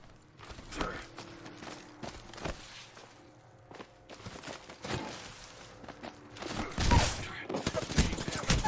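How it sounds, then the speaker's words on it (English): Scattered gunfire from enemies shooting in the Apex Legends video game, with sporadic shots and short bursts among footsteps and game noise, fairly faint overall with a louder burst near the end. "they're both shooting at you"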